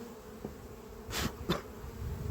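Bees hum steadily around a beehive on a hot day, a soft continuous drone with a couple of brief louder passes as individual insects fly close by.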